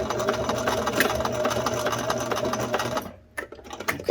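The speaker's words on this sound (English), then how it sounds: "I'm gonna take a tiny little, tiny bit of a stitch. Much better. And I will back tack." A sewing machine back tacks a stitch on trousers, its motor running in a steady close whir for about three seconds before stopping, followed by a couple of faint clicks.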